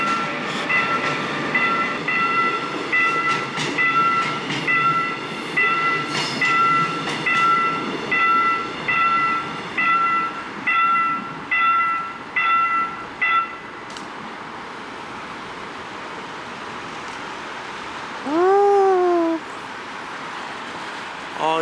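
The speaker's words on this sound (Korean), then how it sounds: "때마침 열차가 와." A Seoul Subway Line 2 train arrives at the station, with loud rumbling and rhythmic clacking wheels that fade into a steady hum, then a sliding tonal whine near the end. Faint voices sit underneath.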